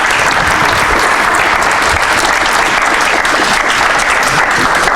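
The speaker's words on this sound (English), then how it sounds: "Let's give our speaker a round of applause" An audience at a tech talk on Docker and Kubernetes gives the speaker a round of applause: loud, dense, continuous clapping from many hands, steady for the full stretch with no talk over it.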